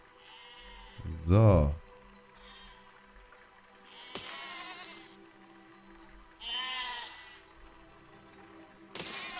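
A sheep in the physics building game Besiege gives one loud, close bleat near the start, followed by a few dull knocks and thuds, with a brief word spoken.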